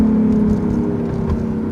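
A BMW i8 hybrid sports car gives off a steady, close engine hum with a smooth whirring drone that holds level for the short moment.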